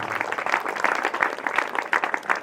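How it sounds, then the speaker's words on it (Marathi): A crowd applauds a guest at a district-level open boys' kho-kho tournament in Ratnagiri, with steady, moderately loud clapping that runs throughout without a break. "जोरात टाळ्या होऊ देत"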